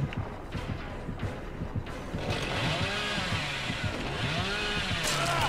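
A chainsaw revs and roars in the Dead by Daylight video game, its engine pitch sweeping up and down while it grows louder and denser midway, amid game sounds.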